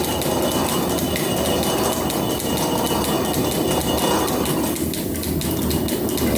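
A metal planer cuts along a flame-cut side of a workpiece, giving a loud, steady, continuous mechanical rumble and clatter with no pauses and no voices.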